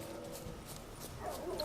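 Dogs attack in The Witcher 3 on Death March difficulty: faint whimpering and yipping game dog sounds over a low, continuous background.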